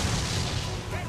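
A ship's cannon fires in Assassin's Creed 4 Black Flag, a loud, booming roar that fills the moment up close and then tails off.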